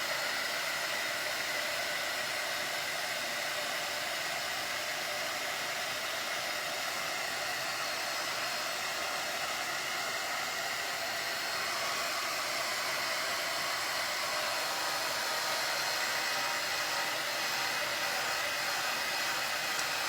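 Hair dryer blowing on fresh paint on a large oval frame, a steady loud whooshing hiss that runs unbroken for the whole stretch with no voices.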